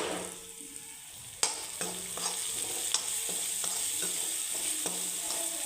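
Turmeric, salt and red chili are stirred in a frying pan, a spoon scraping and clinking against the metal in a loose rhythm of sharp taps over a soft, steady sizzle.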